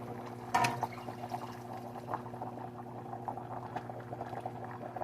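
Homemade Skyline-style chili sauce, canned without beans, pours from a 16-ounce jar into a pot with a soft, steady liquid glug and a brief louder splash near the start, heard close up over a low kitchen hum.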